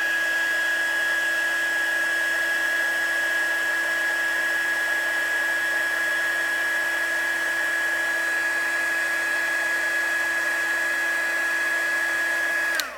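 A heat tool melts embossing powder on a greeting card, giving a steady, loud, close whine with a sharp tonal hum that holds unchanged for about thirteen seconds, then cuts off at the end.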